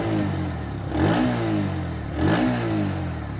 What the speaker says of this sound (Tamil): இப்போ கொஞ்சம் ரைஸ் பண்ணி பார்ப்போம் வண்டி எப்படி இருக்குது அப்படிங்கிறத.